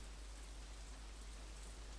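Steady, soft rain falling in the adventure video game The Dark Eye: Chains of Satinav, an even, continuous hiss with no talking.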